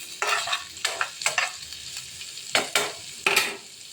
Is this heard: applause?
no